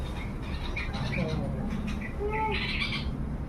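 Sparrow parents call while coaching a fledgling just out of the nest to fly, giving short chirps and squawks over a steady noisy outdoor background, with a voice talking across the calls.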